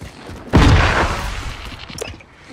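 A flashbang grenade detonating in Call of Duty: Warzone: one sudden loud boom that hangs with a roaring decay for about a second, followed by a smaller sharp crack near the end.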